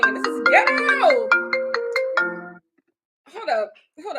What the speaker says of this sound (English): Oh my god, my phone ringing.